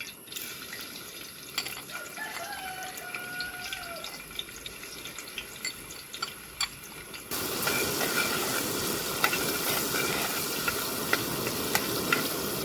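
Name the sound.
chopped ginger and garlic frying in oil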